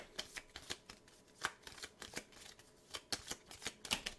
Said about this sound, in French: Je vais mélanger les cartes potions.